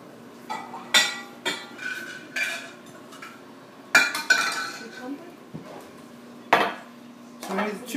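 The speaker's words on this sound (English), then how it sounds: "And the next thing we're going to do is measure out the rice." Dry rice being measured out with measuring cups for a chicken and risotto dish, heard as a series of sharp clinks and scoops from cups and dishes in irregular bursts over a quiet kitchen background.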